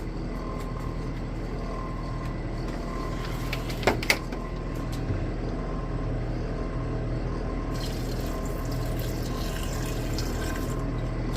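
Distilled water trickles and splashes steadily while rinsing parts during gold recovery from RAM chips, a continuous close pour with a couple of brief sharp knocks partway through.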